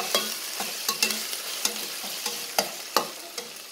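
Garlic, ginger and green chilies frying with spices in a pan, a soft continuous sizzle punctuated by about ten crisp spatula scrapes and taps at a fairly regular stirring rhythm, with no voices.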